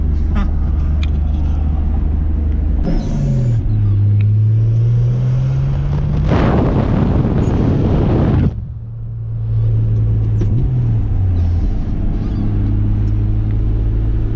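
A Toyota Supra truck with an upgraded 7M-GTE turbo engine runs steadily and close, with a revving surge in the middle before it settles back to idle.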